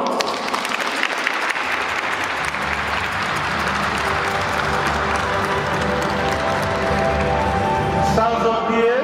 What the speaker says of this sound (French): Alors acclamons pour nos mamans.